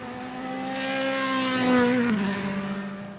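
A BMW DTM race car engine worked hard during qualifying at Hockenheim, a sustained high-pitched whine swelling as it passes, with a slight downshift-like drop near the end.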